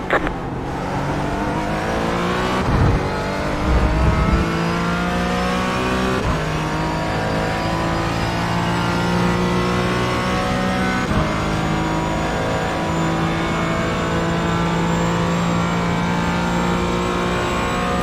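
Race cars roar around Canadian Tire Motorsport Park in the iRacing simulator, their engines loud and continuous, rising and shifting through gears as several cars run close together in a steady, unbroken drone.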